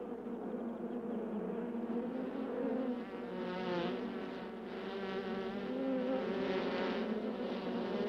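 A honeybee hive buzzes loudly after its queen is removed, a dense sustained drone of many wings that swells and wavers, close and continuous without pause.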